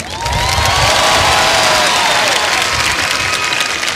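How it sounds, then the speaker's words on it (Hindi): Studio audience at a Kaun Banega Crorepati game show breaks into loud, sustained applause with scattered cheers, filling the room for several seconds. "और इस बात पे तालियां बज जाएं तो अच्छा लगेगा।"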